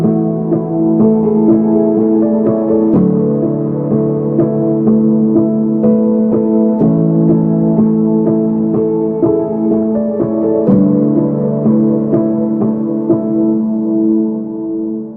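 Lo-fi piano parts with Valhalla Supermassive reverb and ping-pong delay, giving a continuous wash of mellow, sustained chords with smeared echo tails and rolled-off highs, played alone at a steady level.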